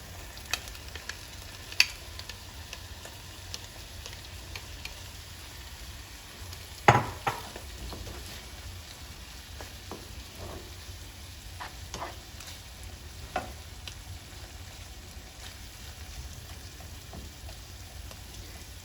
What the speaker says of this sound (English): now I'm just gonna go ahead and put in the vegan meat